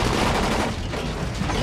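Dense, loud gunfire in the video game Dying Light, a continuous burst of overlapping shots and booms with no break.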